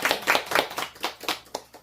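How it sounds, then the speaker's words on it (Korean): A short burst of hand clapping, about seven distinct claps in a quick, slightly uneven rhythm, close and fairly loud. "박수"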